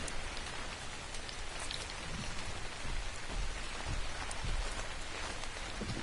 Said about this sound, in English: The rain is so stupid.